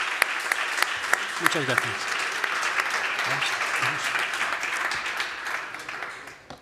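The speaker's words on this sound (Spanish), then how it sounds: "Creo que se ha ganado un fuerte aplauso esta noche" An audience applauds after the presentation of a report, with a sustained wash of clapping from many people that tapers off toward the end, while someone speaks briefly over it.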